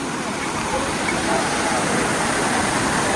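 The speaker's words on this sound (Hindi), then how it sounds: "पानी की आवाज़" Water rushes steadily along a stream near Donka Mukam in West Karbi Anglong, a loud, even, continuous roar with no break.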